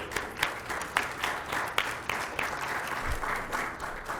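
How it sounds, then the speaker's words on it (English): A PyCon Latam 2019 conference audience claps for Python Nicaragua after a Python packaging talk, a steady wash of applause with a few sharper individual claps standing out, moderately loud and without speech. "So please give an applause to all the people"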